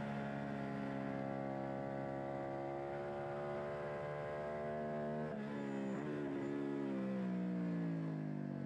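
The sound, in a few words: racing motorcycle engine, rider missing the shift into second gear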